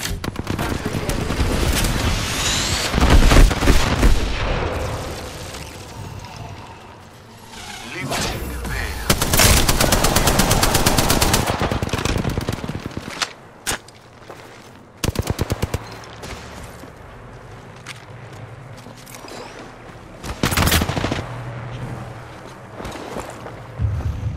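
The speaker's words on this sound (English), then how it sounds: "I'm taking fire." Apex Legends video game gunfire: bursts of rapid automatic fire and single shots with occasional booms and thuds, loud and close, alongside in-game voice lines.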